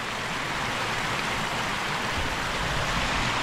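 A waterfall in Petrópolis, Brazil, gives off a steady, dense broadband roar of falling water that stays constant and fairly loud, with no voices.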